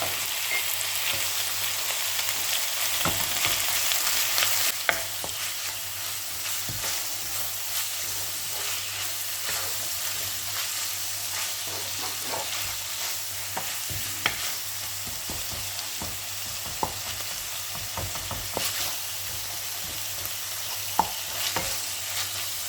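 Minced meat and spices fry in a pan for stuffed peppers, a continuous close sizzle broken by repeated stirring clicks and scrapes of a utensil, with no one speaking.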